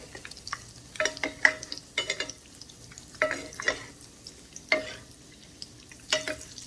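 Shrimp egg foo yung fries in a small wok, with soft sizzling under repeated bursts of scraping and clattering as it is worked in the pan. No one speaks.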